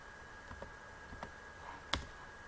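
Mouse clicks while using the polygonal selection tool in Cinema 4D, a few sparse, quiet clicks spaced irregularly, with one sharper click near the end and no speech.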